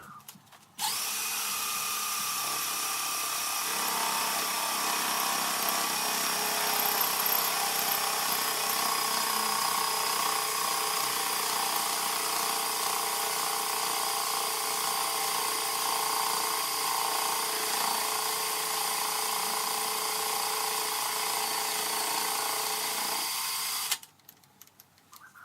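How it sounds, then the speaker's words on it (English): A part for a homemade Gingery milling machine spins on a drill while being machined, a loud continuous motor whine with steady tonal hum that starts abruptly, holds for over twenty seconds, then stops. "I thought I'd spin it up on the drill and just finish it off"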